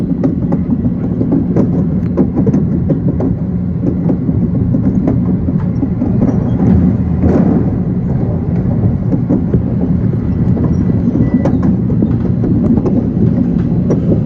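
An elevated subway train passes overhead toward Queensboro Plaza, a loud, continuous roar and rumble of wheels on the steel structure with rhythmic clatter, lasting the whole time with no voices.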